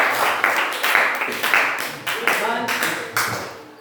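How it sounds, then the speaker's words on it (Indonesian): A classroom of students clapping together after a group presentation, steady fairly close applause with overlapping claps that swells and ebbs over a few seconds, voices faintly mixed in. "Iya, tepuk tangan kepada apa dulu?"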